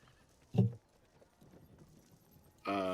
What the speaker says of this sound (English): Why do I hear chickens and horses in my ear?